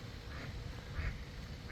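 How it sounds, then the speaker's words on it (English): Ducks quack at a pond in Beacon Hill Park, Victoria, a few soft calls spread across a quiet moment, faint and at a moderate distance. "look at all those ducks."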